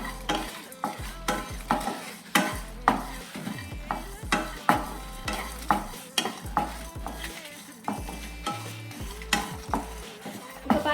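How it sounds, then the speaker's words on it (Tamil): Ingredients for a bottle gourd kulambu spice mix dry-roasting in a pan over a low flame, with a steady run of scraping, stirring strokes and pan clatter and a soft sizzle underneath, close and fairly loud, no voices. "லோ ஃப்ளேமில் வச்சு நல்லா வறுத்து எடுத்துக்கலாம்."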